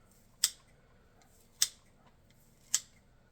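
Scissors cut fabric into 1 inch squares in three sharp, close snips spaced about a second apart, with near silence between them.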